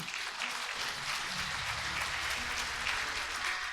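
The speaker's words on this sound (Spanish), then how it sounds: "¿Cuántos aplauden en nombre del Señor?" A church congregation claps during a sermon, with continuous, fairly faint applause blending into a soft, distant wash of sound.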